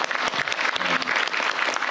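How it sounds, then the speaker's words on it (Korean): An audience at a government work briefing breaks into brief, close applause, a dense burst of clapping with a few voices faintly underneath. "박수 쳐주세요."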